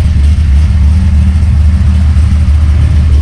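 A 1989 Ford F150 running on E85 with headers and dump pipes sits at a high idle, a loud, steady low rumble that holds constant without revving.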